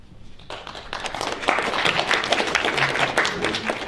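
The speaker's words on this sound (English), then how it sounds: "one more time, let's give a big round of applause to all the films and all the filmmakers today" An audience at a film festival Q&A breaks into applause, starting sparse and quickly swelling into a dense, fairly loud wash of clapping that holds steady.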